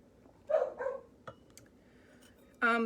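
A dog barks a few times in a quiet room, two yaps close together, then a pause and another sharp bark near the end.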